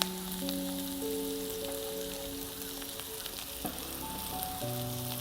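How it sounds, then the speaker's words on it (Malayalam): Ginger and curry leaves fry in hot oil, a loud continuous sizzle with occasional faint stirring scrapes, and no voices. "നന്നായിട്ട് ഇളക്കി ചെറുതായിട്ടൊരു ഗോൾഡൻ കളർ ആകുന്നവരെ നമുക്കൊന്ന് ഇളക്കി കൊടുക്കാം"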